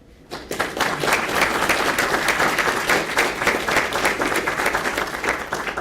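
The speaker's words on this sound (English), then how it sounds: "I'd like to offer a quick round of applause for that" A quick round of applause from the audience at a science panel on UAP, starting abruptly and holding as a dense, steady wash of clapping from a full room.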